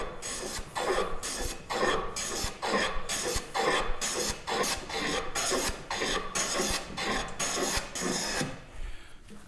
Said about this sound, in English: sharp plane, put it on there at 45 degrees, and then slightly skew it like this